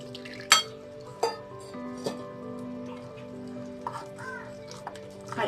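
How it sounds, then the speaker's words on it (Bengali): A spoon clinks against a bowl while an egg yolk cutlet mixture seasoned with ground pepper is stirred, giving a few sharp taps spaced over several seconds amid soft kitchen stirring noise. "ভালো করে মিশিয়ে নেব।"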